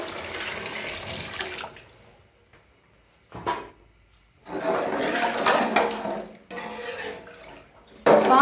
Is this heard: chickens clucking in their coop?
no